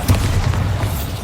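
A Bombarda spell explodes in Hogwarts Legacy, a deep, loud, close boom that rumbles heavily for about a second, with no talk over it.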